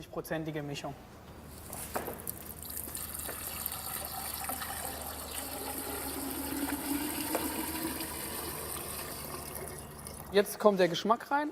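Water gushes steadily from a tap into a container to dilute 96-degree alcohol for gin, a continuous splashing fill that stops near the end amid a few knocks, with talking heard faintly.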